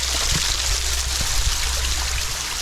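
Inside a tunnel, a quiet waterfall gives a steady rushing trickle of water, a soft continuous wash with a low rumble underneath and no voices.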